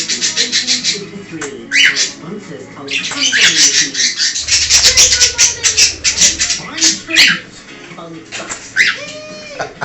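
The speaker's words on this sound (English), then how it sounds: "Wait, the budgies are off." Budgies chirping alongside a cockatiel indoors, rapid bright twittering calls in bursts, close and loud, mixed with someone talking.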